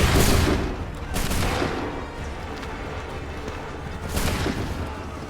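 Musket volleys from Assassin's Creed 3 crack out in a ragged line, a big burst at the start and another near the end, with rumbling battlefield din filling the gaps.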